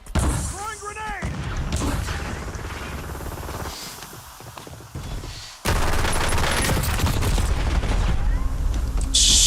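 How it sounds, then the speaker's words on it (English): In a Warzone match, loud gunfire rattles and a grenade blast crashes in, with a player talking over the opening seconds before a sustained burst of heavy firing and explosion noise takes over the remainder. "I'm reloading. Peter? Mr. Hello Blake. there. Throwing grenade."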